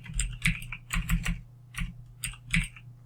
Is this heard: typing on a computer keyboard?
yes